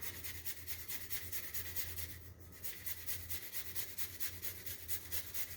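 Fresh ginger is rubbed against a grater in quick, even, rhythmic strokes, soft and close, with a brief pause partway through.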